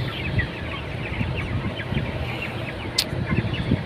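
Many chickens in a multi-storey poultry house cluck and squawk continuously, a dense overlapping flock chorus with a steady fan hum beneath, no talking.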